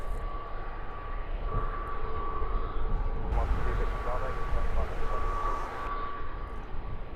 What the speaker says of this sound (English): Ryanair taking its sweet time to get going.